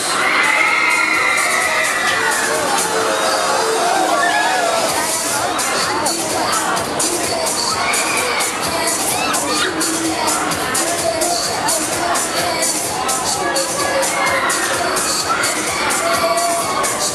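A crowd of riders screams and shouts continuously on the Transformer fairground ride at the Nuremberg Volksfest, loud dense cheering and shrieks held throughout.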